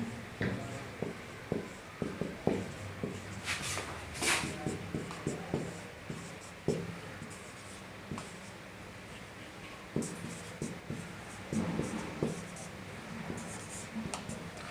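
Marker or chalk writing on a board during a lecture, repeated short scratchy strokes in bursts, with a teacher talking intermittently alongside.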